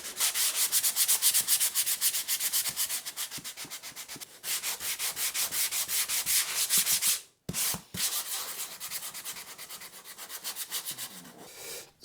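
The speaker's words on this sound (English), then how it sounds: "I've got a really rough 60 grit pad on this block. I'm just going to start rubbing this down." Coarse 60 grit abrasive pad on a sanding block rubs down a wooden bass neck-pocket template in steady rapid back-and-forth strokes, loud and close, with a brief pause near the middle and no talking.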